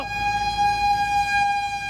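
Steady wailing fire truck siren tone holding a high pitch, fairly close and loud, with no talking.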